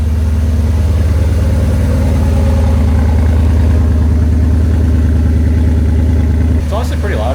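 Boosted Acura TL-S engine idling after a cold start, a loud, close, throbbing low rumble held steady for several seconds before easing off slightly at the end.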